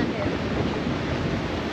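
Loud, continuous rush of ocean surf and wind buffeting the microphone on the coast at Ebeye in the Marshall Islands, a dense, unbroken roar with no distinct wave breaks.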